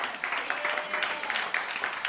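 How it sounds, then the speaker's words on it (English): An audience claps at an award moment on stage, a fairly faint, even patter of applause from a crowd with a few louder bursts, no talking over it. "Clap, clap, back on stage. Please clap."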